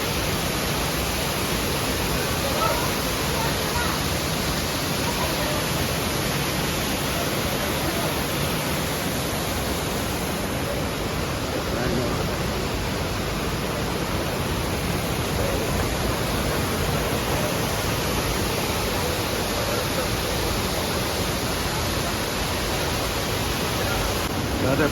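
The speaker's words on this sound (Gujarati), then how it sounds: "પાણીનો અવાજ આવે." Kempty Falls in Mussoorie pours down in a steady, dense roar of falling water that fills the whole stretch without a break, broad and loud, like a continuous rushing hiss.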